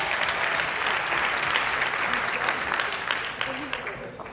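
Church congregation clapping hands together for Jesus during a service, a full steady round of applause with voices audible underneath, slowly thinning toward the end.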